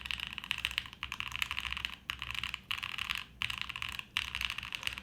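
Rapid clacky keystrokes on a HEX4B mechanical keyboard typed steadily at close range, with a few brief pauses between bursts and no talking.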